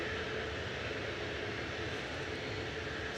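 An Airbus A380 airliner arriving at Manchester Airport, a steady broadband engine roar that holds level and continuous throughout, with no voices over it.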